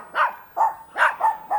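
Several small dogs bark in short yapping bursts close by, five sharp barks at an uneven rhythm with no talk over them.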